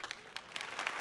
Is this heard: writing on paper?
no